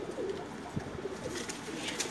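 Teddy pigeons coo softly in a loft, giving a few low, short, rounded calls that recur through a faint, steady background without any talk.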